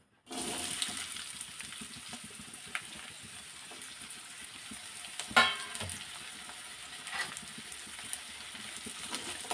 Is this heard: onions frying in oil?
yes